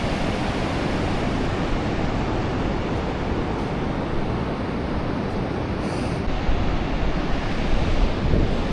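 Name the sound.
ocean waves on beach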